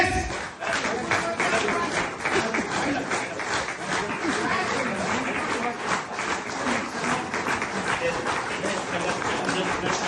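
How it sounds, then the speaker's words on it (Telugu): Audience applause fills a felicitation ceremony at a meeting, dense steady clapping from a crowd lasting throughout, with some chatter mixed in. "ఇప్పుడు ఆ ఘన సన్మానం జరుగుతున్నంత సేపు మనం మంచి క్లాప్స్ తో వర్షం కురవాలండి"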